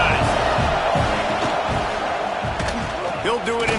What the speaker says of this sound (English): Neyland Stadium alive, a cauldron of orange noise on third down